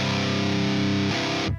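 Distorted electric guitar through a cabinet simulator with the microphone set dead center in the Amped Dual plugin, a dense sustained riff that changes partway, then cuts off abruptly.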